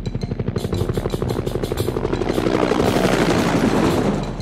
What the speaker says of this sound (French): Regardez l'hélicoptère qui s'envole.